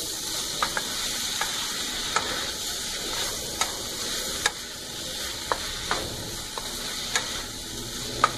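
Mixed vegetables with boiled potato and paneer stir-frying on a high flame, a steady sizzle under regular sharp scrapes and taps of a spatula against the pan, roughly one each second.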